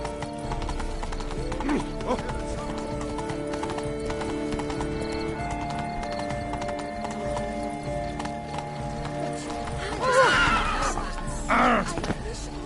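A horse in The Witcher 3: Wild Hunt, Blood and Wine, gallops with steady clip-clopping hoofbeats under droning game sound, then gives two loud, shrill neighs near the end.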